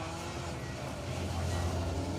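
Historic-spec Mini rally car on a circuit rally stage at SMC Stages, its engine a steady, fairly distant drone with a low rumble that swells slightly toward the end.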